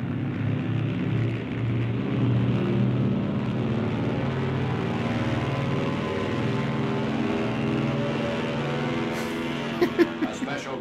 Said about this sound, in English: Now a C-47 taxis into a towing position to receive the other end of the rope